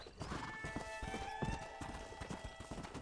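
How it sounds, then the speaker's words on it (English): A wild horse in the video game Red Dead Redemption, with steady clip-clop hoofbeats close by and a neigh rising over them, all fairly quiet. "Oh, hello, wild horsey."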